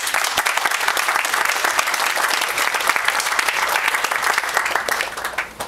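Audience at a Benin Embassy celebration applauding Peace Corps volunteers, steady dense clapping from a room full of people that holds evenly and tapers off at the end.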